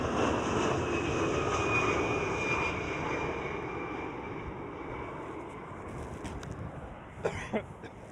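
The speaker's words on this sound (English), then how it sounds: "We have United Airlines" A United Airlines Boeing 767 jet at Amsterdam Schiphol gives off a steady broad engine roar that slowly fades as it moves away, with a few faint thumps near the end.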